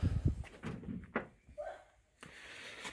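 The door of a Nissan Micra project car fitted with a ZX9R motorcycle engine is opened: a soft latch click and a light thunk, then faint rustling and another quiet clack in a hushed space.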